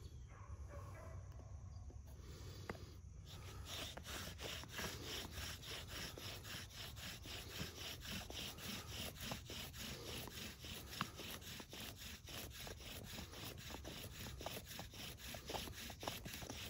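Bow drill friction fire using a found nylon strap as the bowstring, with a steady back-and-forth wooden rubbing and sawing rhythm, close and continuous throughout.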